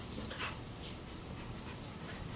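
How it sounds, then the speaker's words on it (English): Dogs playfighting in the background make faint panting, snuffling and soft whimpering sounds in a continuous low scuffle, with no talking. "my dogs are in the background eating each other"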